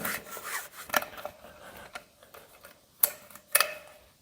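A rag wipes the body of a paint spray gun in quick, close rubbing strokes. Light ticks of the rag catching on the metal are punctuated by a couple of sharper knocks near the end.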